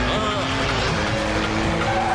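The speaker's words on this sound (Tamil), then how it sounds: "நீ ரோட்டை பார்த்து வண்டியை வேகமா ஓட்டு." A cartoon vehicle races along a road with a loud engine roar and squealing, skidding tires, close and sustained across the whole stretch.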